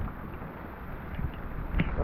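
Wind gusts blow steadily around a small fishing boat during a thunderstorm with heavy rain. Low, rough rumbling buffets the microphone with no voices.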